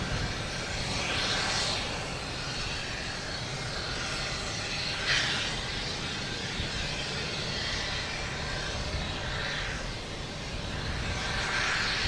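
A jet airliner climbing away on takeoff at Boston Logan, a steady broad engine roar holding at an even level throughout with no voices over it.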